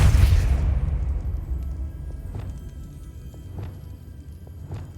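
A Depulso spell impact in Hogwarts Legacy hits as a loud opening burst that decays into a low rumble, followed by a few soft, scattered pops and thuds.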